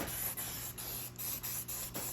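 Professional rust enamel paint sprays from an aerosol can onto a car in a series of short, close hissing bursts separated by brief pauses.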